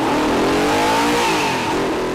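An Audi RS4 B7 with a 4.2-litre V8 that revs to 8,000 RPM holds a loud, sustained high-rpm note close by, its pitch rising slightly and then wavering.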